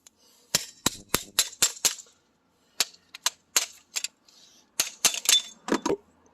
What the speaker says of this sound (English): this nut is freeze, and I'm just gonna tap on it like this